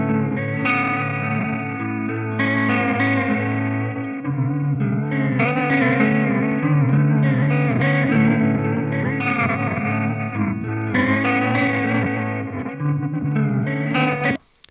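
An electric guitar through a Chase Bliss Generation Loss Mk II pedal plays sustained, wavering chords with warped, tape-like modulation, grit and washy ambience, continuous and loud, then cuts off abruptly at the end.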